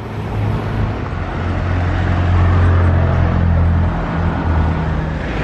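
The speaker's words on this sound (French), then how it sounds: "Ancienne Ferrari suivie d'une ancienne Porsche." An old Ferrari followed by an old Porsche drives past on the street, a steady loud engine drone that swells and holds for several seconds before easing slightly, with no talking.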